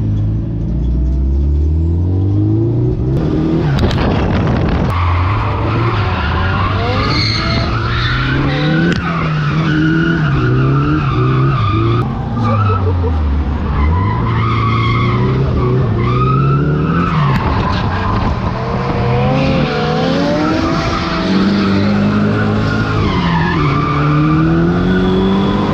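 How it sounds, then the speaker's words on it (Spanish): Drift cars run in tandem on a track in Andorra, a Nissan S14, a Skyline and an S13, with loud, sustained engine roar, revving that rises and falls, and continuous tire squeal throughout. "Entramos con el S14 de Recuero, con el Skyline de Huertes y también el S13 de Álvaro Fresh Imports."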